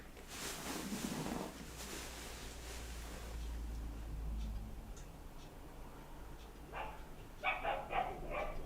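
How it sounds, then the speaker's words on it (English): A dog barks faintly indoors, with a couple of short, distant barks near the end of an otherwise quiet stretch. "Sorry if you can hear the dog."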